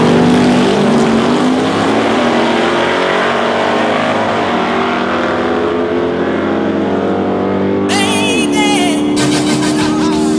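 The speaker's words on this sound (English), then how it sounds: "my buddy Barrett just pulled up in his 2016 Golf R" Modified 2016 Volkswagen Golf R pulling up: a loud, close engine drone holding a steady pitch, then dropping in revs with a change in tone near the end, no talk.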